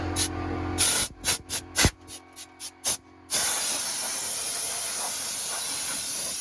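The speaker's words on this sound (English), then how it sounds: "Now I just gotta use some compressed air to clean all this shit off" Compressed air blasts off a cleaned car part during exhaust and suspension work on a C10 truck, first in a string of short, sharp hissing bursts, then settling into one long continuous loud spray.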